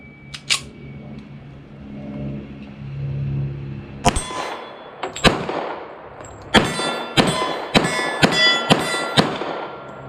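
A TISAS ZIG M45 1911 pistol has its magazine released, giving sharp metallic clacks and clangs that come in a quick irregular series after a quieter stretch, close and crisp with no talking.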